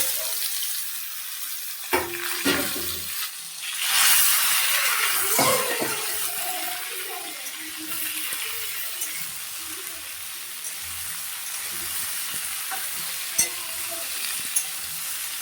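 Vegetables for a curry of jackfruit seeds, potato, katoya stalks and pumpkin hit hot oil tempered with panch phoron and ginger, sizzling loudly at first, then frying steadily as they are stirred, close up with no talk.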